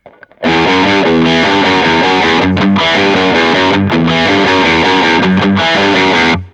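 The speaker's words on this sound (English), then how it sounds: "I'm using a US high gain amp model in the standard mode" Heavily distorted electric guitar through a VOX Valvetronix VT120 Plus amp on a US high gain amp model, standard mode, plays chugging riffs and chords for several seconds, loud and upfront, with brief gaps between phrases before a ringing final chord.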